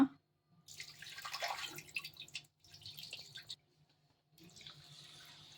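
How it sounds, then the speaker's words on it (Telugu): Water splashes and drips in short bursts, with pauses between, as moong dal is swished and rinsed in a bowl close by. "పప్పు ఒక గిన్నెలో వేసుకొని ఫస్ట్ అయితే కడుగుతున్నా అనమాట"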